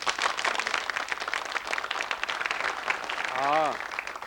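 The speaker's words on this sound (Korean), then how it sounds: "박수 한번 쳐주세요." Studio audience on a Korean business TV program gives a short burst of applause, steady clapping throughout, with a brief voice-like tone near the end.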